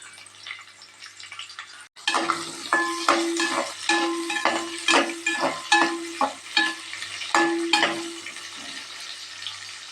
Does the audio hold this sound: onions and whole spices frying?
yes